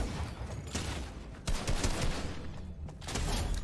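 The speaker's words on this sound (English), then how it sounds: "you find an enemy, and you simply shoot them" Dense bursts of Fortnite gunfire fill the mix with rapid, loud shots, repeated volleys roughly every second with brief gaps, and no talking over them.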